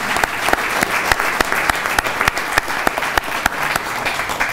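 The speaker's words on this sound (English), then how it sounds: "Let's give them a big round of applause" An audience at a government funding announcement gives a round of applause for two arriving officials, a steady wash of clapping with a few sharper individual claps standing out at regular intervals.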